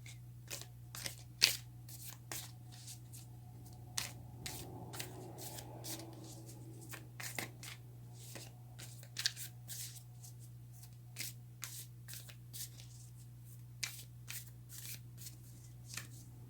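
Tarot cards being shuffled by hand, a quiet, close series of crisp riffling snaps and flutters repeating irregularly over a low steady hum, with no talking.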